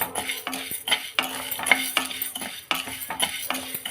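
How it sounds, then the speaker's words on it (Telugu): Cumin, fenugreek and white sesame seeds dry-roasting over low heat in a pan while a spoon stirs them, giving repeated scraping and clinking strokes in a steady rhythm, close and moderately loud with a faint sizzle beneath. "జీలకర్ర, తెల్ల నువ్వులు ఇవన్నీ సిమ్లోనే వేయించుకోవాలండి."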